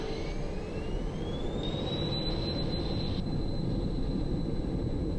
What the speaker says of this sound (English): Throttles are going to advance